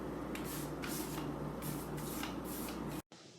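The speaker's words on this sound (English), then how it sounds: "a plaster sealer must now be applied" Plaster sealer sprayed onto a repaired, water-damaged plaster wall: a steady close hiss with faint rhythmic pulses, running for about three seconds before cutting off abruptly.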